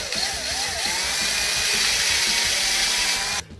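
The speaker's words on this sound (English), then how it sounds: "we're just going to drill out these 3 little holes" A power drill with a 5/16 drill bit bores out small holes in the barrel of a DIY airsoft shotgun, giving a loud, sustained whine heard close up that stops abruptly near the end.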